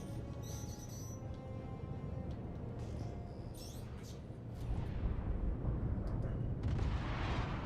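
Missiles launched from an Aegis Tiburon ship in Star Citizen: a few brief electronic launch chirps and whooshes over a low engine rumble, followed by a louder roaring burst and rushing noise near the end.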